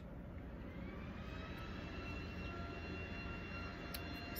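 Neighbours' lawn mowers drone from outside as a steady, faint, distant engine hum with slowly shifting tones and no talk over it.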